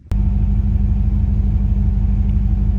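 Turbocharged engine of a Dodge Diplomat idling while parked, a steady, loud low rumble that holds even and unbroken from start to finish.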